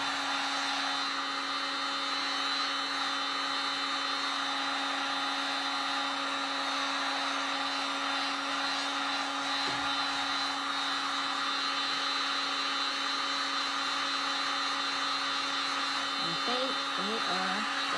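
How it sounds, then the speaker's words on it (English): A heat gun blows steadily on a wooden oar during wood burning, a constant whooshing fan hum with a fixed tonal whine, continuous and close, with a brief faint knock near the end. "you want to keep your heat gun moving so it doesn't burn your wood"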